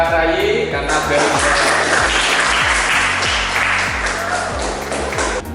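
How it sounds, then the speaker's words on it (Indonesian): A classroom gives a student a round of applause, loud and close clapping that fades gradually, with a rhythmic tapping and a voice running underneath. "Jadi kita kasih aplaus buat Mbak Rayi"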